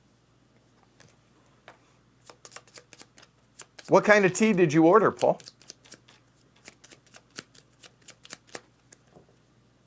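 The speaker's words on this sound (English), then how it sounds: "We have to shuffle up their decks." Decks of cards being shuffled at a tabletop session of the board game Ground Floor Second Edition, a run of quick faint clicks and riffles spread through the clip, with a brief burst of speech in the middle.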